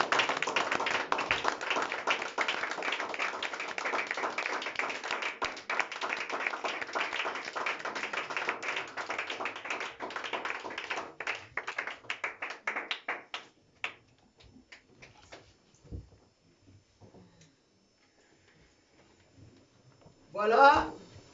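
Church congregation clapping rhythmically in worship, brisk steady hand claps that thin out and fade to scattered claps, followed by near silence and a short final burst of sound.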